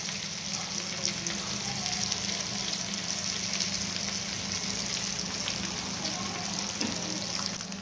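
Ragda patties fry in a hot pan with a steady, dense sizzle that holds evenly from start to finish, close and fairly loud, with no talking over it.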